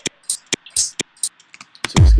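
Techy synth loop from a sample pack: short, punchy stabs in a choppy rhythm with bright hissy hits, ending in a loud, sustained bass-heavy swell, heard alone and up close.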